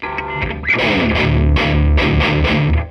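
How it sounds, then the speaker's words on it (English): Electric guitar through diode clipping distortion with a fuzzy, clipped edge, several sustained strummed chords ringing out loud and close, no voices. "It adds just a little bit of fuzz to the top end"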